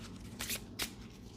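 Oracle cards being shuffled by hand, with two short crisp riffling bursts close up in a quiet room, alone without talk.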